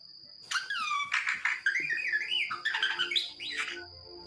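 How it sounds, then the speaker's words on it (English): A bird chirping and whistling, a bright close run of warbling tweets and rising squeaky calls after a brief silence, loud and alone with no talking. "And this is the sound that a bird makes."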